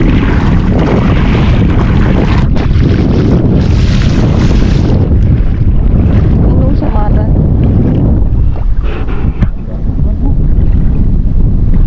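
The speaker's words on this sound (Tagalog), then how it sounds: "Uy, lakas na hangin." Strong wind roars and buffets the microphone continuously on a fishing boat at sea, mixed with the boat's engine, while a person briefly speaks beneath the noise.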